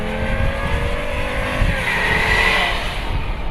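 A Volkswagen Jetta with a 2.5-liter five-cylinder engine accelerates with a harsh, continuous drone that climbs in pitch, heard from inside or near the car at moderate loudness.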